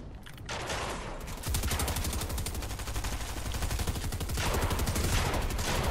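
Rapid automatic gunfire from a video game rattles almost without pause, loud and dense, with a short quieter lead-in before the sustained bursts take over.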